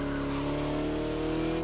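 The engine of a 1936 Bugatti Type 57 SC Atlantic drones continuously while driving on French countryside roads in The Crew racing game, a steady, loud, buzzing hum that swells slightly near the end.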